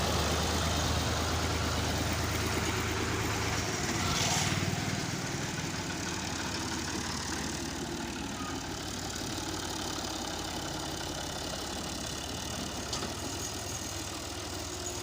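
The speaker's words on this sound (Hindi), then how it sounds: "ट्रैक्टर आ गया है भाई।" A tractor engine idles with a steady low chugging rumble throughout, close and continuous, with no talk over it, out on a farm growing wheat and sugarcane.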